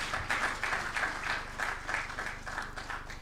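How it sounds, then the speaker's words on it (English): Audience at an engineering institution's annual ethics lecture applauding, a moderate, sustained patter of clapping in a hall over a low background hum. "a round of applause for my boss"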